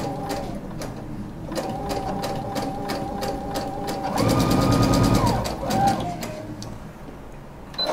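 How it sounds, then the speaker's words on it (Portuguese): An electric sewing machine stitches fabric fitted with a special presser foot, running in steady bursts of rapid mechanical whirring that pause and restart, speeding up loudly in the middle and close by. "tô costurando com um pé especial e tem um corte ali que levanta o tecido"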